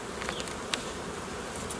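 Honeybees buzz steadily around a vertical beehive during the spring bloom, a close, continuous insect drone with a few individual bees flying past.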